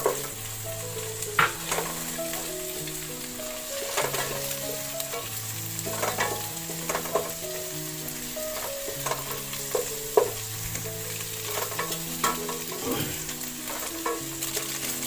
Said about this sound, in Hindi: ये डालूंगा ताकि ये गाजर थोड़ी सी गल जाए